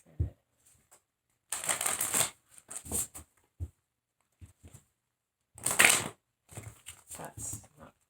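Tarot cards are shuffled in several quick rustling bursts separated by short silences, close and crisp.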